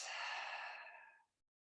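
A slow, breathy exhale sighed out through the mouth, close and soft, steadily fading to silence after a little over a second.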